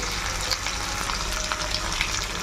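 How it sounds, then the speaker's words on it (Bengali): Spices sizzling steadily in hot oil in a pan while aloo dum cooks with potatoes and peas, a dense continuous close fry with faint stirring scrapes and no voices. "ওর বাদ বাকি যে মশলাগুলো দেবো সেগুলো একবারে দিয়ে তারপরে কষবো।"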